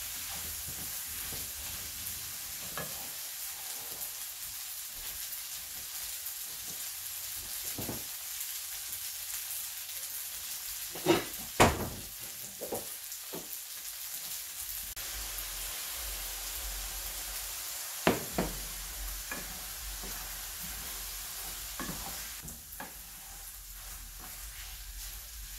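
Chicken breast stir fry sizzles steadily in a hot pan, a constant frying hiss with occasional sharp clinks and scrapes from stirring, close and alone without talk.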